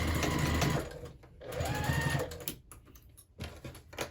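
A sewing machine stitching the seam of a zipper pouch made from jelly roll fabric strips, running in close, loud bursts of rapid mechanical whirring with brief pauses between runs.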